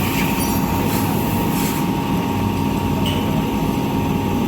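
Loud, continuous drone of a Kawasaki Ninja 250R motorcycle engine with a fuel flooding problem, running without its exhaust fitted, a harsh steady roar filling the whole clip with no talk.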